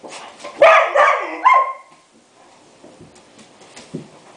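A dog barks several times in quick succession close to the microphone, sharp loud yaps in the first two seconds followed by quieter whimpers and a faint final yip.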